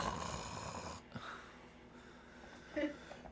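A voice imitates a character snoring during a tabletop fantasy dungeon game session: a few slow, raspy, drawn-out snore breaths, fairly quiet and close, with no other talk.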